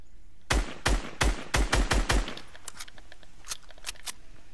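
Rapid gunfire from a Desert Eagle and a SCAR in a video game: a burst of about six sharp, loud shots in quick succession, followed by fainter, scattered clicks and softer shots.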